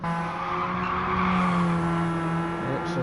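A race car spins on the Circuit de Sainte-Croix track during an EDC Radical Series round, its tires squealing loudly and continuously over the droning engine for about three seconds.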